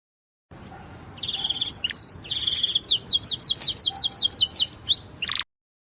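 Bright bird chirps and trills repeat in quick rhythmic bursts over a soft steady hiss like light rain, close and clear.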